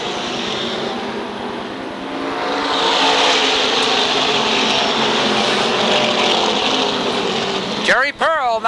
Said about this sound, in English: Jerry Pearl looks to lead the field down through the turns